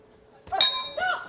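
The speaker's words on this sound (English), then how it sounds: "And there goes the bell." A boxing ring's round-end bell at the men's world championships in Dubai strikes twice, about half a second apart, with bright metallic clangs that ring on and decay over quiet arena background.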